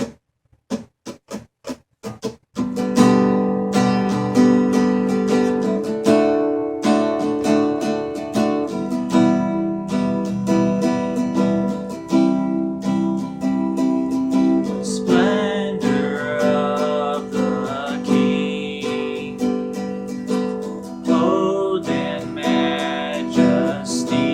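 An acoustic guitar plays a steady strum pattern, starting with a few sharp muted taps before settling into continuous rhythmic chords, close and clear with no talk.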